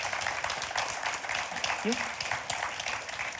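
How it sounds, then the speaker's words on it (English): An audience at a food business event applauds its panelists, a soft, steady wash of clapping while a voice speaks briefly over it. "Can we have a round of applause for our panelists?"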